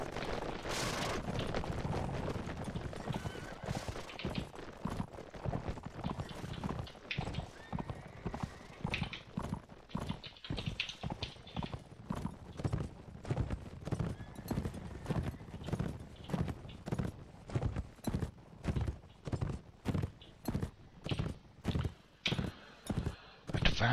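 A cavalry charge in Mount & Blade with Fire & Sword: horse hooves pound in a steady galloping clip-clop that grows more distinct and rhythmic toward the end, with a horse whinnying early on.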